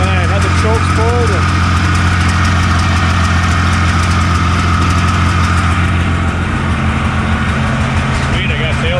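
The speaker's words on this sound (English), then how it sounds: "So as you can see, a little bit of smoke, but got it running." An old Polaris 440 snowmobile, unmoved since 1993 and puffing a little smoke, runs close by with a loud, steady, rough two-stroke idle throughout while someone speaks over it.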